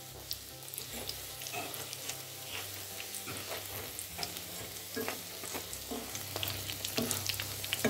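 Canned-tuna fish cutlets fry in a pan over a low-to-medium flame, giving a soft, steady sizzle with light crackling throughout and no voices.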